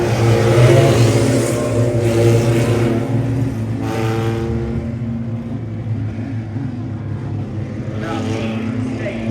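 Sprint race cars roar around Kokomo Speedway as a heat race gets under way, a loud, dense engine drone from several cars with rising revs, close and continuous.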